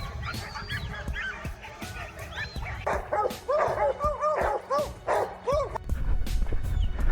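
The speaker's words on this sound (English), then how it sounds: "the dog suddenly barked, sharper, more urgent this time" A dog barks repeatedly during a wild boar hunt outdoors, loud and close in sharp, irregular bursts, with honking goose-like calls mixed among the barks.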